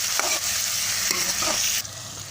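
Tomatoes and green chillies sautéing over a medium flame, a steady close sizzle with a few stirring scrapes before the frying quiets near the end.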